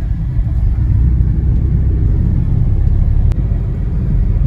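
Road traffic in Nagpur makes a steady, close, low rumble of passing cars and engines, continuous and fairly loud, with no one speaking.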